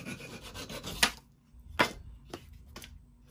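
A flush trim saw cuts slowly through wood while building a DIY step stool, giving a soft rasping scrape with a few sharper strokes spaced apart, close and fairly quiet.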